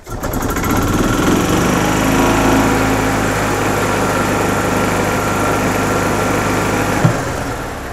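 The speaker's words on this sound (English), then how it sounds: "Now, we're going to start the cart again." A 2004 Club Car Precedent gas golf cart engine starts and runs at full throttle, a loud steady buzzing drone from close by that holds for several seconds before cutting back near the end.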